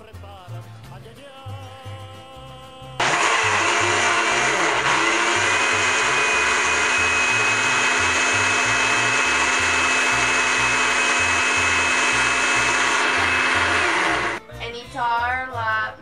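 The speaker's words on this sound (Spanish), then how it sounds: "Poner el queso en la licuadora." Kitchen blender running loud and steady as it purees white cheese with milk and jalapeños for a quesadilla filling, a sustained motor whine lasting about eleven seconds before cutting off.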